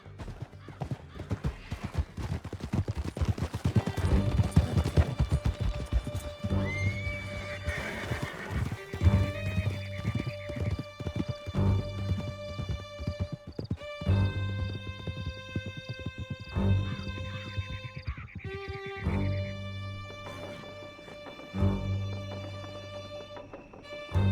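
Horses gallop with rapid clip-clop hoofbeats in the video game Red Dead Redemption 2, loud and steady for the whole stretch, with whinnies and a dense game score layered over the pounding hooves.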